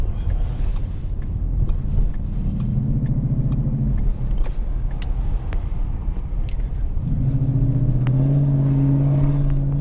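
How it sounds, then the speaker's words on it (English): A car driving through town streets, heard from inside as a loud constant road rumble and engine drone, with engine tones rising as it accelerates twice. "we're in the car"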